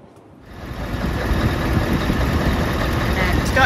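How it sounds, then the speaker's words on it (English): A lorry engine turns over and catches, then settles into a steady rumbling idle that holds for the rest of the moment, with a high whine above it. "Started the engine, as you can hear."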